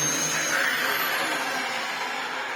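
A restored Dyson DC04 or DC07 upright vacuum cleaner runs steadily with a loud, continuous motor whine and airflow roar. No one speaks, and the level stays constant throughout.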